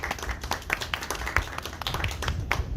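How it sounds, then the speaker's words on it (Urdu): Audience applause at a poetry lecture on Allama Iqbal's Armughan e Hijaz in a public library hall, steady dense clapping from many hands welcoming a speaker to the stage, moderately loud and continuous throughout. "تالی ہونی چاہیے۔"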